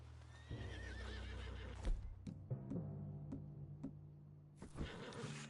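A spooked horse in Red Dead Redemption 2 lets out a loud, wavering neigh up close, followed by several sharp hoof clops and thuds, then a burst of rustling noise at the end.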